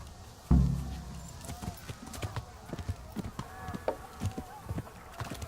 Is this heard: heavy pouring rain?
no